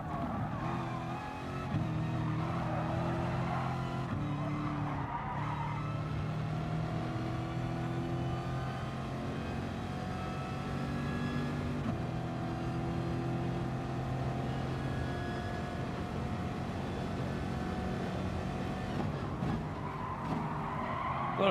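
Race car engine in Gran Turismo Sport, a loud, continuous rising and falling whine through gear changes, with tires squealing and skidding through corners, running steadily for over twenty seconds.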